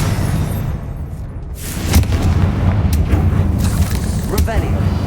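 Confringo blasting spell detonates in Hogwarts Legacy with a booming burst of explosions and crackling impacts, layered under the game's continuous background sound.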